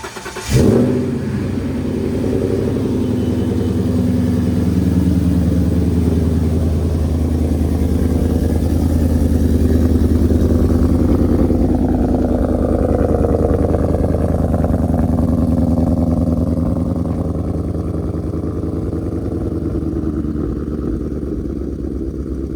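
A car engine fires up after a spark plug change with a sharp start, then holds a loud, steady rumbling idle with slight revving swells, alone for the full stretch.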